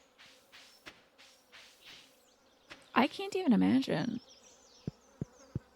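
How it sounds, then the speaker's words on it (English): Bees buzzing in the Stardew Valley video game, a soft droning hum with a louder, wavering buzz in the middle, heard alongside a person talking. "Maybe it's my bees."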